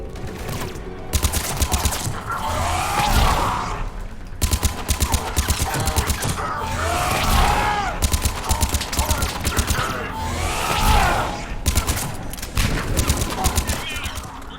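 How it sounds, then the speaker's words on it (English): Mortar and gunfire from a Mass Effect 3 battle erupt in repeated bursts of rattling shots and mechanical clatter, loud and close, with voices speaking between volleys. "We're getting a lot of mortar fire."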